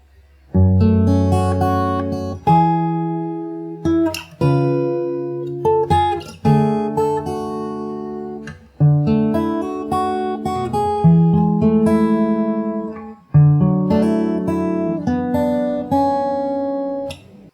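Fingerstyle guitar plays a melodic passage from a song, with plucked notes and chords ringing out, phrases separated by brief gaps, close and clear with no talking.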